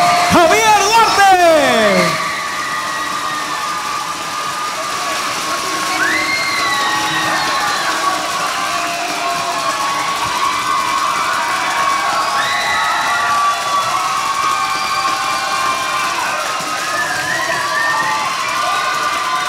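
An audience cheers loudly for a singer at an event, an opening burst of whoops settling into sustained crowd shouting and cheering with scattered applause, and a voice speaking over it.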